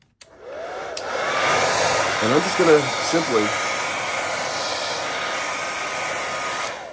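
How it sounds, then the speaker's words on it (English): A hair dryer switches on with a click and blows in a steady, loud whoosh, with a brief spoken voice partly under it. "I'm going to go ahead and turn the hair dryer on"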